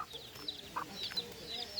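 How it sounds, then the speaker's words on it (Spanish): Small chicks let out faint, high, quick cheeps in scattered bursts against a quiet outdoor background. "Sí, son pollitos. ¡Qué chiquitos!"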